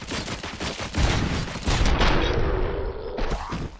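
Gunfire in the RoboCop: Rogue City video game rattles in loud, rapid bursts, a dense fusillade of close shots that fills the scene and keeps going without pause.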